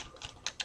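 Computer keyboard typing: a few quick, light key clicks in a short burst, close and fairly soft, with no voices.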